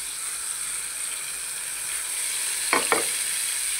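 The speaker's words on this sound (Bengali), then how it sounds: "পেঁয়াজটাকে ভালোভাবে লাল করে নিব, মজিয়ে নিব।" Garlic and onion frying in a pan, a steady close hiss of oil with two quick scraping knocks near the end, no voices.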